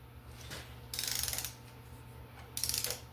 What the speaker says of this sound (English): So I'm torquing these to 35.